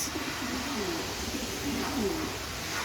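Pet birds, including a yellow bird, call softly indoors with repeated cooing notes over steady background noise.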